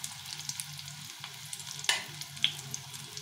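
Fish oil fritters fry in a pan with a close, steady sizzle and bubbling, broken by a couple of sharp metallic ticks near the end, and no one talks.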